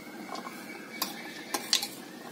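A spoon mixes peanut chaat with spices in a bowl, a soft scraping stir punctuated by three or four light metallic clinks, quiet and close.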